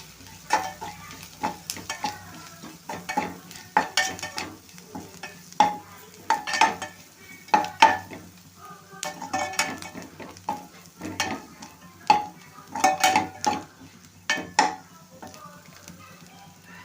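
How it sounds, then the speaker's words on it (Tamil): Onions frying in oil in a pan for an egg fry, stirred with a utensil: steady sizzle under repeated scraping and clinking strokes in an irregular rhythm, close and moderately loud, no voices. "எண்ணெய் சேர்த்து நல்லா கிண்டி விட்டுக்கிடுவோம்"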